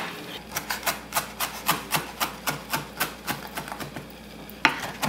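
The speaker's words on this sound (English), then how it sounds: "Try to keep the tip of your knife down on the cutting board and just chop through down." A knife chops cilantro on a cutting board with quick, regular taps, about three a second, crisp and close, with the blade tip kept down, alone over a soft room hum.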